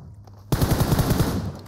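Automatic gunfire in PUBG Mobile, a sudden rapid burst of evenly spaced shots after a quiet start, loud and close, fading into a trailing echo.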